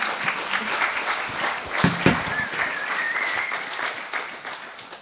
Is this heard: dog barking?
no